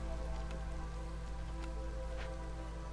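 Soft steady rain falling during drizzle season in the Against the Storm video game, a faint continuous patter with scattered droplet taps over a low hum of background music.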